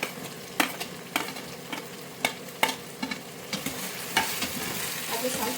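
Potato, carrot and beans frying in a pan for bisibele bath: sharp, irregular spatula knocks and scrapes against the pan over a soft steady sizzle, close by, with no talking.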